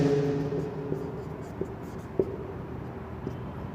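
An equation being written on a board during a Class 9 physics lesson on motion: a faint scratchy stroke punctuated by several light taps spaced about a second apart, with no speech.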